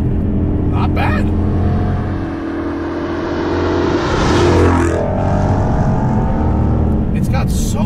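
A supercharged, widened 2015 Ford Mustang GT V8 pulls hard under acceleration, a loud, steady engine drone rising in pitch as it revs, heard from close range with some talk over it.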